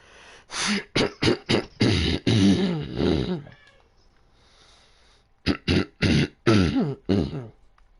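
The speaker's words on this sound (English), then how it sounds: "Sorry, I gotta clear my throat." A person clears their throat in a series of sharp, close bursts, a first cluster of rough hacks, a quiet pause, then another run of short harsh coughs.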